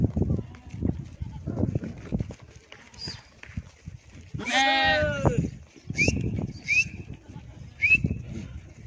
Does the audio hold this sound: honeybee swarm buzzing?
no